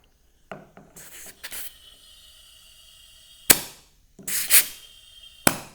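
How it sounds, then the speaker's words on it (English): Compressed air bursts from an air chuck and hose held with needle nose pliers against a tire valve: a few faint clicks, then several short, sharp hissing blasts spaced apart with quiet gaps between. "I got air chuck and air hose, so the combination together should give me a little air in my tire"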